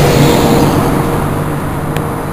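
A motor vehicle passes on a road, a loud close engine roar and tyre drone that stays strong and slowly eases as it goes by, with no talk.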